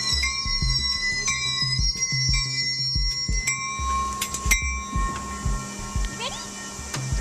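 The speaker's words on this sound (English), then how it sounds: "It can be pretty intimidating as the train pulls into the station because one, it's really big and it's also very loud." A large transit train pulls into a station, its bell ringing and wheels squealing faintly amid rumbling and clatter, loud and close, with voices and station noise in the background.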